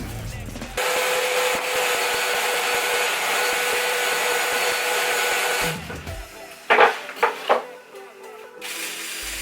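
A vacuum cleaner roars steadily for several seconds sucking up wood shavings, then cuts off, followed by a few scraping knocks and rustles.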